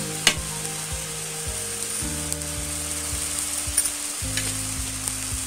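Cashews, raisins and split almonds are stirred into sizzling carrot halwa in a pan, a steady frying hiss with a few light scrapes and clinks, close up and without speech, over a low background hum.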